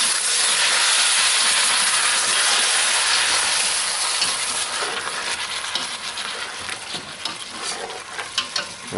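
Water hisses and sizzles as it hits a hot pan of spicy potatoes, a loud, steady steaming roar that gradually thins into crackling, uneven bubbling.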